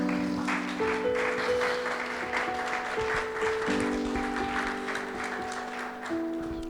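A church congregation applauding during a sermon, a sustained, even patter of many hands clapping while sustained organ or keyboard tones hold beneath.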